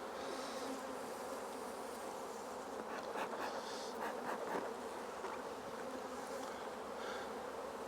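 Dense, steady buzzing of many honeybees around hives at a bramble-surrounded apiary in autumn, a continuous close swarm hum with occasional individual bees flying nearer past.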